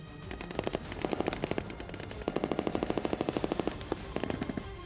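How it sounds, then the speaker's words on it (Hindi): Russian Navy sailors fire guns at sea during Navy Day, heard as rapid bursts of automatic gunfire with short pauses between volleys, rather faint and distant over a background of wind and open water. "नेवी के जवानों ने समंदर में गोलियां बरसाकर दुश्मन को चेतावनी दी"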